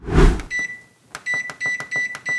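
Oven control panel being set to preheat to 375: a short rumbling knock, then a string of about eight sharp electronic beeps in an uneven rhythm, loud and close.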